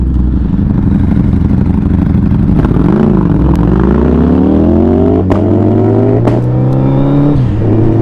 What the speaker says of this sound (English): That misfire, guys.